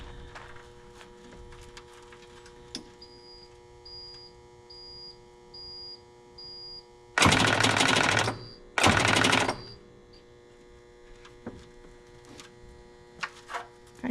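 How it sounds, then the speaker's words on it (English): An engine on its first start after sitting, cranking over in two loud, rapid rattling bursts of about a second each, with a beeping tone and background hum between them. "let's put this on start and see if she cranks over"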